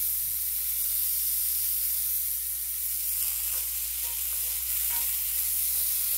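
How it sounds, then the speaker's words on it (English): Bacon fat renders in a hot, seasoned cast iron pan, giving a steady, soft hiss and sizzle that runs on evenly and close by, with no voices over it. "I'm going to render out some fat out of the bacon"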